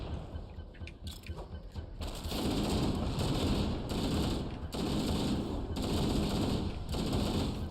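Rapid-fire weapons in Halo: Combat Evolved rattle in several sustained bursts separated by short pauses, loud and dense, after a quieter stretch of small clicks at the start.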